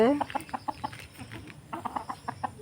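Chickens cluck in quick, irregular bursts, fairly close, with a brief higher call at the start and some murmuring underneath.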